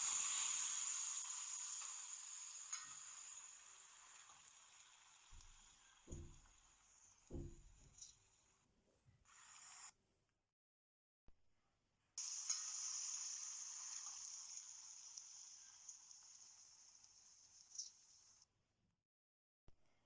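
Soft sizzling hiss from a pot of tutmaç soup, fading and returning after a short silence, with a few light clinks and knocks in between.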